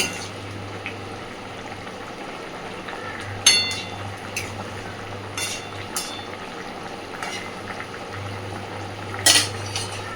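Fish curry ingredients for vola machher jhal are mixed in a pan, with occasional clinks and scrapes of a utensil against metal over a low, steady bubbling hum.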